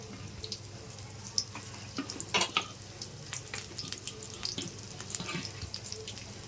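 Bajji fritters such as potato and chilli frying in hot oil, giving a soft continuous sizzle with scattered crackles and pops, fairly faint and close, with no talk over it.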